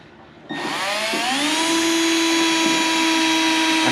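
A power drill spins up abruptly and whines steadily as it bores into a Harbor Freight 20-ton press, the pitch rising slightly and then holding loud and close until the end.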